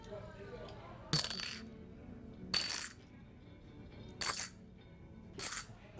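Coins drop into a glass in four separate bursts of bright metallic clinks and rattles, about a second apart, each settling quickly into a quiet room during a magic trick.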